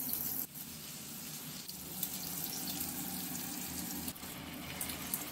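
Chopped onions frying in a pan give a steady, dense sizzling hiss that carries on without a break, with a couple of faint knocks, and nobody talks.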